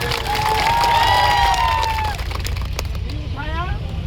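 Crowd at an outdoor protest sit-in in Udaipur cheering and applauding loudly, with shouts and a whistling tone early on, dense and continuous before easing into steady clapping and babble.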